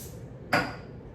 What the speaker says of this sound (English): Spray the pan so it doesn't stick.